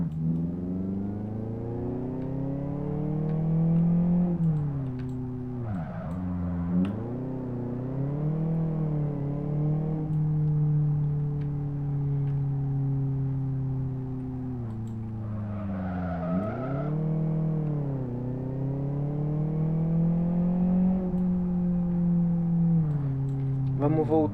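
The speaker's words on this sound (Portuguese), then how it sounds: "Ele é bem mortinho quando você acelera e pisa e coloca uma segunda." A VW Gol GTI engine in the Live For Speed racing game revs steadily, with two sharp dips where it shifts gears before climbing again, a continuous droning tone heard alone throughout.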